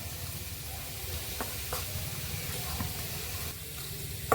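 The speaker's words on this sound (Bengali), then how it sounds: "আলুটা এদিকে ভাজা হতে থাক।" Potatoes fry in a pan with a steady, close sizzle that holds throughout, broken by a few light clicks and taps as they are stirred.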